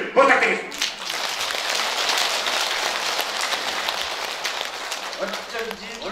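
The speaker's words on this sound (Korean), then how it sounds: "여러분 자축의 박수를 부탁드리겠습니다" A large crowd of elderly attendees at a laughter-exercise lecture in a district office auditorium claps steadily and densely for several seconds after a brief spoken line.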